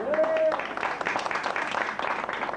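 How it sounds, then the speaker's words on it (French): A studio audience claps for a European table tennis champion during a 1990 radio show, moderate, uneven applause following a brief voiced sound at the start, continuing at a steady level. "Je crois qu'on peut quand même l'applaudir."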